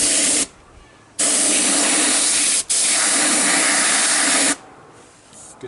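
A spray gun sprays tooling gel coat onto a quarter scale truck in two long, loud bursts of steady hiss, with short pauses between them and a quiet tail after the second.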